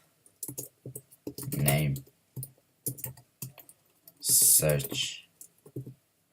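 Clattering computer keyboard keys typing PHP code, quick bursts of clicks spread through the clip between and under a man's spoken words.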